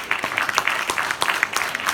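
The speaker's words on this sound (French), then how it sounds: "On l'applaudit pour l'encourager." Brief burst of audience applause at a magic festival show, steady rapid clapping from a crowd for a couple of seconds.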